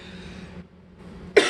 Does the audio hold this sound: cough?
yes